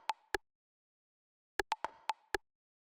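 Short percussion hits from a drum rack for minimal house: two dry, knocking plops, a pause, then a quick cluster of five more, crisp and clean with no other sound.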